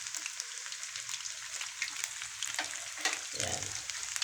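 Chicken pieces frying in hot oil, a steady close crackling sizzle throughout with occasional louder pops and a brief stirring scrape near the end.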